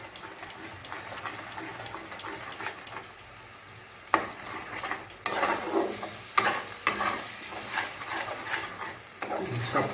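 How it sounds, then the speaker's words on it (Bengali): Beaten egg fries in a pan with a soft, steady sizzle while a utensil stirs and scrapes it, the strokes growing louder and busier in the second half; no talking. "ভাজা ভাজা করে নিতে হবে।"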